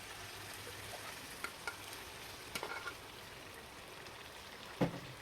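Cooked dal and rice sautéed with spices in a pan for dal khichdi, a faint soft sizzle with a few light scraping stirs and one sharper clink near the end.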